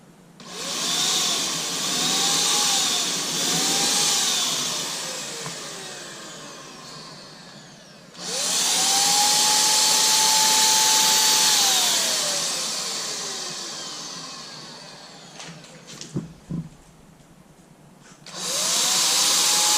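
Wagner Flexio 2000 power paint sprayer loaded with primer, running in loud sustained bursts of whirring spray with pitch glides as the motor spins up and down, cutting off briefly between runs, close and without talk.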